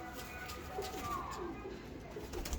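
Pigeons held and shown indoors, their soft low cooing running under someone talking close by.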